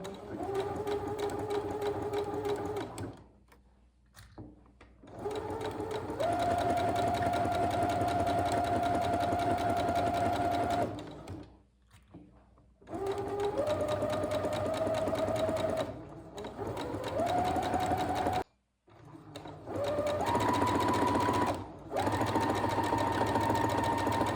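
A sewing machine runs in steady, loud bursts as it stitches curved seams on Easter fabric bunting, stopping briefly several times as the fabric is turned, then starting again.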